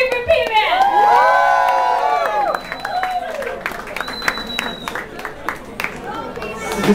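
A live show audience shouts, whoops and cheers, loud crowd noise with children's voices and scattered clapping, while nearby voices call out over the din.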